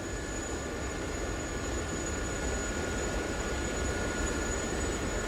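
Gazelle helicopter flying low and fast over terrain in the DCS flight simulator, a steady, even engine and rotor drone with a thin high whine, continuous and unchanging.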